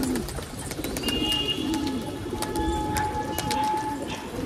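Pigeon coos from a crested pigeon chick that is flying, with soft repeated cooing calls over a steady background hum, fairly close.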